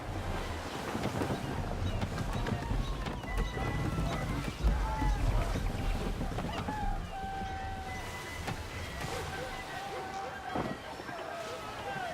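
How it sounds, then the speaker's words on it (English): Strong wind gusts roar across open sea aboard the ship Aquila in Assassin's Creed III, with waves washing beneath a steady low rumble and crew voices calling out over the gale. "Rogue wind! Ease her up!"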